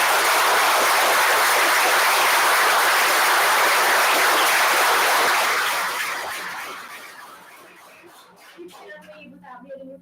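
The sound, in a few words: audience applause at school board meeting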